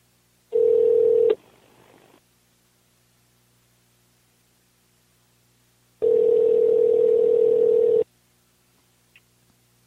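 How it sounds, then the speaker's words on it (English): Outgoing telephone call with a steady ringback tone: two loud rings against a quiet line, a short burst near the start and a longer one about five seconds later, with faint hiss between them. "We're going to hear the phone ring and all that."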